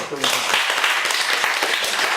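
A Korean audience claps briefly, with a scattered, moderately loud round of hands following a speaker's request.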